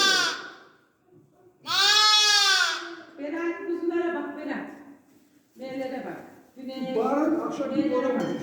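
A newborn lamb bleats for its mother in a sheep flock, giving several loud, close, wavering cries separated by short gaps, with one especially high, strained call near the start.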